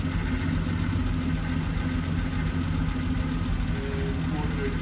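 A 1970 Triumph TR6 engine idles steadily after carburetor screw adjustment, a constant close, moderately loud rumble with no change in pace.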